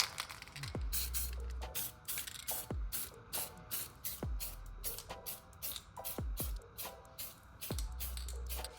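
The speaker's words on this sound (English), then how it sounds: "we're gonna hit it with some zinc spray." Zinc spray from an aerosol can coating a car's brake hub on a Mercedes 190D (W201) during a brake overhaul, heard as repeated close hissing bursts in uneven rhythm, some sharp and short, others longer.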